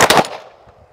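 Gunfire from two Hi-Point YC9 pistols fired together, a quick burst of two or three close, loud cracks in the first quarter second, then a fading echoing tail.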